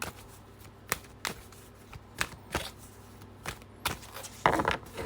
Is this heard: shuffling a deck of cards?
yes